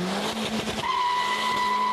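A Vauxhall Astra VXR launches hard with tire smoke: close, loud engine roar and tire squeal that settles into a sustained high-pitched engine tone as the car pulls away.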